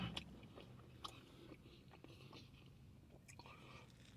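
Someone bites into crispy Church's smokehouse fried chicken, giving faint crunchy bites and soft chewing close to the mic over a quiet background hiss.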